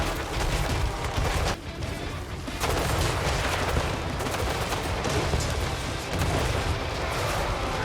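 Explosive shrapnel rounds fired by an infantry unit in Total War Warhammer 3 crack and boom in a dense, continuous barrage, loud and close, with overlapping blasts and no clear gaps.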